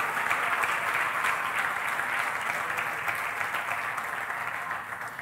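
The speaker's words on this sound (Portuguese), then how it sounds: "Aplauda ao Senhor e glorifique o nome dEle" Church congregation applauding during an evening worship service, a continuous dense clatter of many hands, fairly loud and even throughout, tapering a little toward the close.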